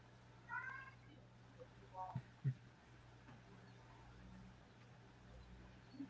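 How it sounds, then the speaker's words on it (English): A cat whines with a few faint, distant meows in short bursts, soft against a quiet room hum. "I hear a cat. It's the cat."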